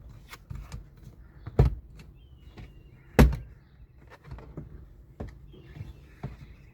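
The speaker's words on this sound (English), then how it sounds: "grip the tray firmly and pull it upward to release the clips" Front center console tray of a Kia Sportage pried upward by hand, its clips letting go in two sharp plastic snaps a moment apart, with quieter handling rustles and taps around them.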